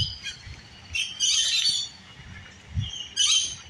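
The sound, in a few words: wildlife birds calling at Busch Gardens wildlife reserve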